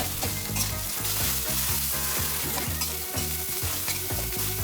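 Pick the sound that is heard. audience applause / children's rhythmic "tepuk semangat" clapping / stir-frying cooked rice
stir-frying cooked rice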